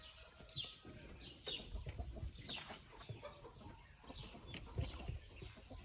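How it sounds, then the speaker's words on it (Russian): A Marans hen clucks close by, a series of soft, irregular clucks and murmurs with brief higher chirps, carrying on steadily with a low background rumble. "Вот такая курочка Маран."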